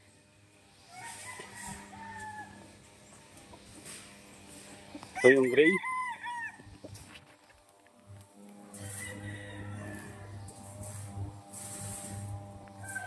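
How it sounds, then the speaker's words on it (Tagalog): Free-ranging chickens and roosters call outdoors, a loud crow-like burst rising near the middle over fainter scattered clucks, with a steady low hum and a person speaking briefly. "nakalabas ngayon yung mga manok nila sa TV"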